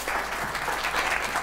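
Spectators at a quarter-final school competition between two teams applaud one of the schools, a brief burst of even, dense clapping from a crowd.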